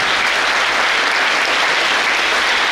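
Hall audience at a hospital's World Homoeopathy Day event clapping for honored guests; a thick, sustained burst of applause from a large crowd, loud and even throughout.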